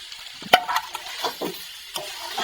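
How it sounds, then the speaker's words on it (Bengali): Cauliflower and eggs go into browned, frying masala in a pan and get stirred, giving a sharp clatter of contact followed by soft scraping and sizzling strokes, close and moderately loud. "এখন ফেলা হবে এই ফুলের কপি, এখন ফেলা হবে আর ডিমের সাথে ফেলে দিলাম।"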